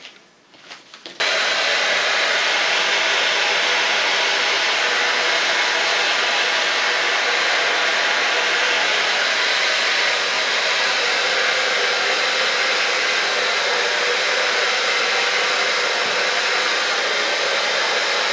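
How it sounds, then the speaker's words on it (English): A hair dryer fitted with a diffuser blows in a steady, loud, continuous rush of air from start to finish after a brief quiet moment at the beginning. "you don't have the force of the hairdryer anymore, because then you have only the warmth of it"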